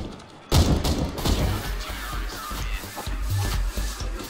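Gunfire in Counter-Strike: Global Offensive, a dense run of thudding shots and impacts mixed with game noise and movement, loud and continuous.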